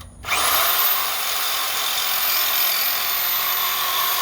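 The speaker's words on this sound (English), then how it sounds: "Call it a Sawzall because you can saw anything you want with it." Sawzall reciprocating saw running while wheel spacers are installed on a vehicle: a loud, steady high-pitched motor whine that spins up quickly and holds continuously, close to the microphone.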